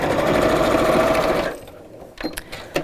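A sewing machine runs steadily at close range for about a second and a half while stitching channels on a fabric bag, then stops, followed by a few soft handling clicks.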